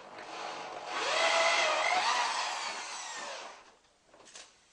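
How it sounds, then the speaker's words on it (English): A power drill bores a hole through a ceiling during a shower installation. The motor whine rises and holds for about three seconds, then drops away, followed by a brief lower burst, all moderately close with no talking. "Mark out the entry point in the ceiling and drill the hole."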